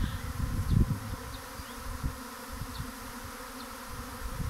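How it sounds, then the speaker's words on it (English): A honeybee swarm landing in a hive box buzzes in a thick, continuous drone, close and steady, with small fluctuations in loudness. "it's all about bees and swarms."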